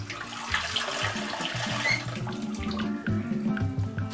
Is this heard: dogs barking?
no